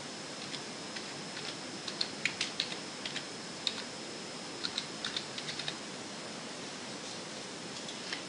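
Light typing on a computer keyboard, scattered soft key clicks in short uneven bursts over a steady background hiss, close but quiet.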